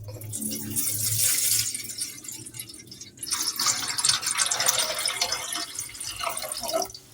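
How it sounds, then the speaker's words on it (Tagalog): Water pours and splashes into a pot for shrimp sinigang, a loud close gush that briefly eases, then runs on steadily with rising sloshing. "lagyan natin ng tubig"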